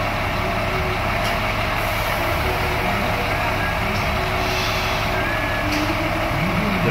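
A Scania K410 IB bus idles with a loud, steady diesel rumble at a departure point, and short air brake hisses break in now and then.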